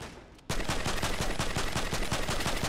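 Gunfire in a video game: a rapid, loud burst of automatic shots starts abruptly after a short quiet moment and rattles on steadily to the end.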